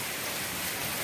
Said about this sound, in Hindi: तो ये बारिश हो रही है इस टाइम जो है ना इस्लामाबाद में, बहुत ही तेज़ और बहुत ही ज़्यादा हवा भी चल रही है